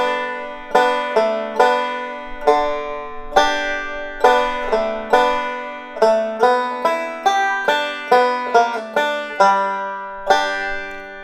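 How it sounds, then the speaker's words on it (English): Bluegrass banjo picks a Rollin' in My Sweet Baby's Arms lick solo: bright, rapid plucked notes in a steady rolling rhythm, close and clear, with no voices. "And then we're moving into the actual Rollin' in My Sweet Baby's Arms lick."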